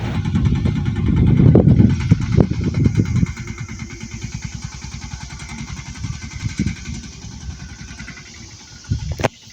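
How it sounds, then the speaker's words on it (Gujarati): A tractor works a farm field, its engine rumbling loud and uneven for the first few seconds, then settling into a steady, rapid chugging idle, with a brief sharp sound near the end. "અત્યારે રાજુ કાન અને રમેશ કાકા ટ્રેક્ટર કરી રહ્યા છે"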